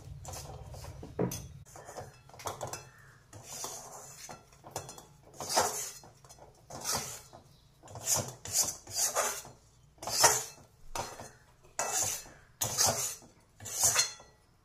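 Roasted semolina is scraped out of an iron kadhai onto a plate: rhythmic, rasping spoon-on-metal strokes with clinks, growing louder and faster toward the end, with no talking.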